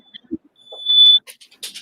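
A smoke detector gives a single long high electronic beep at close range, with scattered clicks and a faint voice nearby.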